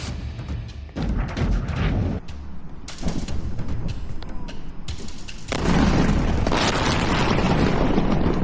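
Bombardment of a military site: repeated heavy booms and blasts in bursts, with loud rumbling stretches between sharp explosive hits and a sustained roar toward the end.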